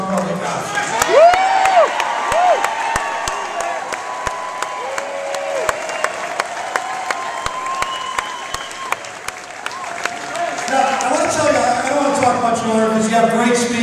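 A health care reform rally crowd in Columbus cheers and applauds, sustained loud clapping with whoops and shouts rising and swelling toward the end, sharp claps and whistles standing out.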